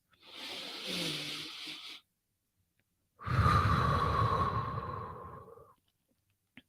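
Slow, deep meditation breathing close to the mic, a long airy inhale and then a pause before an even longer, fuller exhale, with no talking.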